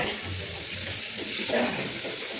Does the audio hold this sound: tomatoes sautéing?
yes